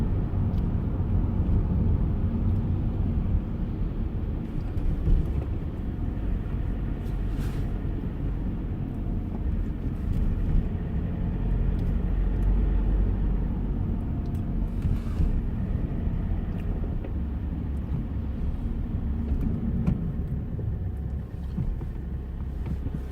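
A car driving through rainy Ljubljana toward the clinical centre, with a steady low engine and road rumble and a continuous wash of tyre and wet-road noise, close and even throughout with no talking.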